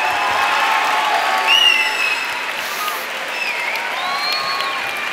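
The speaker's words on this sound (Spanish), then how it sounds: "aplauso para ella, por favor" Audience applause at the Enlaza Vigo 2019 event, dense steady clapping close by and fairly loud, with a few scattered whistles and cheers mixed in.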